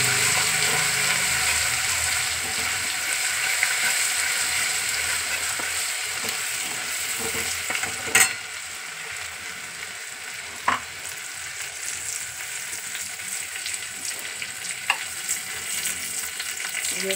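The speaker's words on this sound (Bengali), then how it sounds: "রসুন বাটাটা দিয়ে একটু নেড়ে দেবো।" Garlic paste sizzles steadily as it is stirred and fried in a pan while cooking a Bengali prawn malai curry, a constant frying hiss broken by a few sharp utensil scrapes and clinks.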